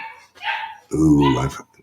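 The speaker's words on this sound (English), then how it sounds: "y'all get to hear the dogs barking" Dogs bark upstairs, heard from a basement: a couple of muffled, mid-distance barks in quick succession, sounding alone without talk.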